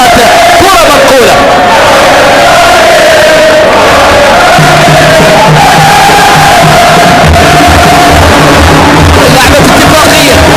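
Stadium crowd roaring at a Saudi League football match between Ittifaq and Taawoun, a loud, constant wall of cheering and chanting with rhythmic shouts, under a commentator talking throughout.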